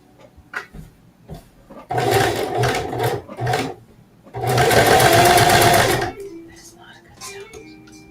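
Sewing machine running in two bursts, a choppy stuttering stretch and then a steady buzzing whir lasting a few seconds, close and loud, with handling sounds and faint voices around it.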